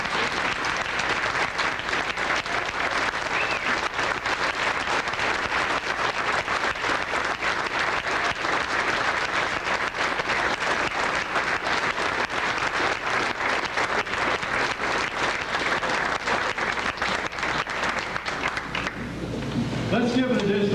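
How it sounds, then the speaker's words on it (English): A large audience at an award ceremony applauds award recipients in a sustained, dense roar of clapping that holds steady for about twenty seconds, then fades as it ends. "give an additional round of applause to all our award recipients tonight"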